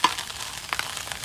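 Fish fries in hot oil in a home kitchen, a steady close sizzle with a few brief louder crackles and spits as the pieces are stirred, no voices over it.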